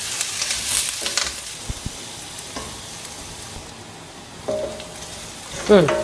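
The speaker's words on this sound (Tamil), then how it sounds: "நல்லா வதக்கலாங்க, பச்சை வாசனை போகணும், நல்லா வதக்கி விடணும்" Curry leaves and shallots sautéing in a pan for tomato kootu, soft steady sizzle with occasional spoon scrapes and stirring clinks, fairly quiet.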